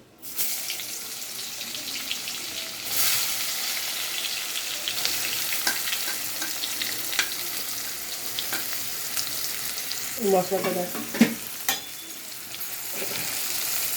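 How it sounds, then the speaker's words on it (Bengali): Onions frying in hot oil in a home kitchen while butter chicken is prepared, a steady crackling sizzle throughout with a few sharper clatters of stirring or utensils near the end, no talking. "এবার পেঁয়াজটা যতক্ষণ ভাজা হচ্ছে"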